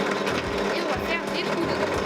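A drill press being switched on in a woodworking workshop, ready to bore holes in wood for a handmade wooden game; a steady motor whir runs throughout the short stretch, with speech over it.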